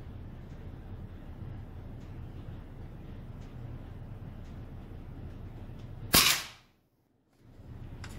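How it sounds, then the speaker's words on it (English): A single sharp, loud crack of an AirForce Talon air rifle firing while being sighted in outdoors, with a steady low background rumble before it and brief silence right after. "It's a very quiet gun."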